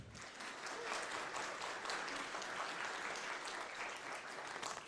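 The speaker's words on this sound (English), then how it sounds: "Big round of applause for her" Fairly faint audience applause at the opening ceremony of the UT Pro Game Jam, an even spread of many hands clapping for about five seconds with no voices.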